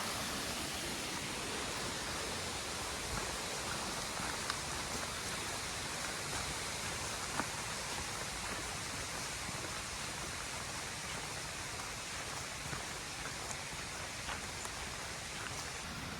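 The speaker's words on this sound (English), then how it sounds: "there's like a mini waterfall over there" A small waterfall tumbles over rocks in a stream on a Scottish Highland hillside walk, giving a steady, broad rushing wash that holds even and unbroken throughout, moderately close and alone with no voices.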